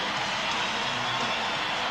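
Basketball arena crowd roaring in support of the Knicks late in the fourth quarter against the Bulls, a dense, sustained wash of cheering that fills the space without a break.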